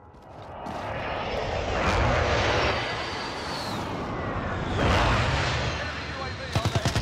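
An airstrike aircraft roars in over a Call of Duty Warzone match on Rebirth Island, a loud swelling engine drone that peaks twice, then ends in a quick burst of rapid gunfire.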